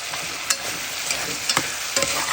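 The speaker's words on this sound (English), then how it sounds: "I'm gonna throw the onion and garlic in." Onion and garlic fry in a pan while a Guyanese cassareep chicken dish is made. A steady, close sizzle runs throughout, broken by a few sharp stirring scrapes.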